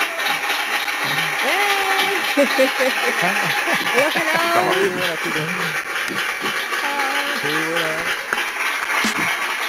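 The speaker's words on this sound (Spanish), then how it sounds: "Un fuerte aplauso para Jugón Virtual y Katy Sugona" An audience applauds guests arriving at a Spanish-language gaming interview show, a continuous dense clatter of clapping under loud speaking voices.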